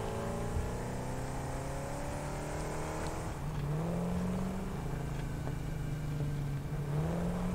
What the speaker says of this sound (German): Wir hüpfen in das Auto.